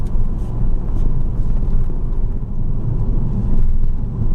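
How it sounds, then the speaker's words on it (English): A manual car's engine drones steadily in a low rumble as the driver shifts from third to fourth gear, the note dipping briefly off the gas before settling. "now I'm going to go third to fourth, quite simply, clutch down off gas, into gear"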